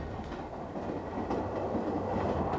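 A train carries riders toward the outskirts of Paris, giving a steady, enveloping rumble of wheels on rails with faint rhythmic clatter, heard from inside or near the carriage and continuous throughout.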